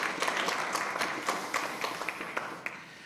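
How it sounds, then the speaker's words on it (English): A small audience at an academic conference on Walter Capps and the Vietnam War applauds the two organisers: moderate clapping with distinct individual claps, fairly close, gradually fading toward the end. "I'd like to just applaud you again,"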